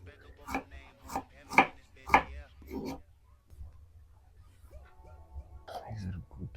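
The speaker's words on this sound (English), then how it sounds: "For the potatoes, thin sliced." Sharp knife slicing raw potatoes thinly on a cutting board, giving a handful of crisp, evenly spaced cuts close by, followed by quieter kitchen handling.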